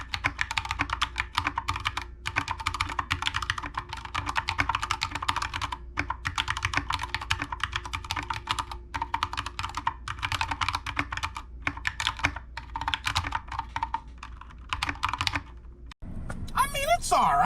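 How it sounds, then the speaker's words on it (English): Rapid clacking of mechanical keyboard keys, continuous typing at close range, then a brief pause and a shift in the sound at the end. "here's the sound test of my old keyboard compared to the Wooting."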